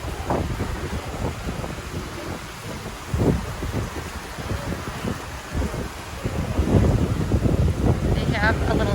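Wind buffets the microphone outdoors at Disney's Riviera Resort, a rumbling, gusty roar that swells and dips throughout and gets stronger toward the end.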